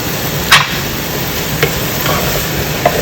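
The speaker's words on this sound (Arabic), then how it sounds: "بدا يصفر البصل زي ما انتم شايفينه. ابدا احط الثوم" Onion, garlic and pumpkin fry in a pot with a steady close sizzle, broken by a few sharp clinks and scrapes of a spoon stirring against the pot; no voices.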